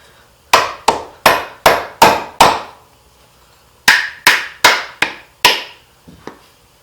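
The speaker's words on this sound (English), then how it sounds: "Usually take a hammer of some type." A hammer strikes metal while seating a front suspension collar on a Datsun 240Z: six sharp, evenly spaced blows, a short pause, then four more, close and loud, each ringing briefly.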